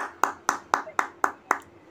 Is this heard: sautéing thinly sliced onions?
no